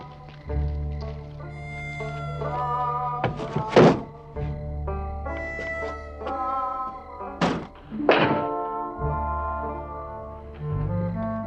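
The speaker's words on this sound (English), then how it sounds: "I'll knock." Someone knocks on a wooden door in a Western setting, giving a few heavy, spaced thuds over an orchestral music score, with no talk.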